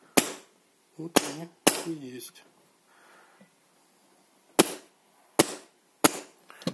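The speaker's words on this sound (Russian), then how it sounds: "Сейчас должны быть одиночные выстрелы." Single shots from an airsoft gun fitted with an HPA electronic kit in a version 2 gearbox, running at about 120 PSI: several sharp, separate cracks spaced apart, with brief speech between them.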